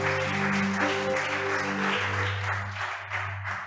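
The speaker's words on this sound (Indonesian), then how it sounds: "Mari berikan tepuk tangan dulu kembali yang meriah bagi Allah kita" A church congregation claps together during a worship service, a dense wash of applause layered over sustained musical tones that softens slightly toward the end.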